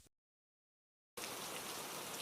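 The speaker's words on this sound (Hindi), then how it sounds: "बारिश अभी भी तूफान की तरह बरस रही थी" Heavy rain pouring like a storm, a steady dense hiss that starts abruptly after a brief silence and continues evenly, with no voices.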